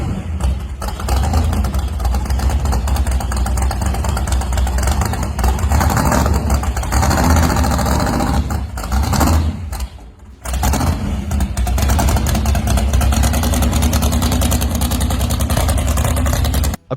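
A 1955 Pontiac Star Chief gasser with a 496 tall-deck marine big-block, 8-71 blower and aluminum heads idles with a loud, lumpy rumble, briefly dropping before settling back.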